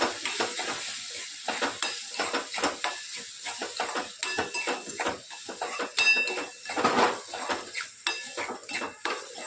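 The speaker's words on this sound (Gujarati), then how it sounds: "સરસ બધું મિક્સ કરી લઈએ" A spoon stirs spices, chili powder, asafoetida, garam masala, turmeric and coriander-cumin, into onion and tomato in a pan, with repeated scraping and clinks over a soft sizzle and hiss of frying.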